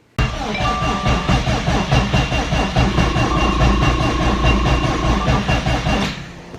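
A long-stored car running on E85 cranks over with a continuous, droning, mechanical churn, loud and near, holding steady for several seconds before tapering off.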